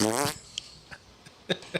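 A farting poo egg toy lets out one buzzy, sputtering fart noise, loud and close, then a few faint clicks and small pops follow in near silence.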